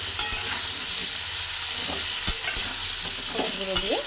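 Papaya pieces frying with turmeric powder in a pan, a loud close sizzle broken by repeated spatula scrapes and clinks against the metal, with no talking.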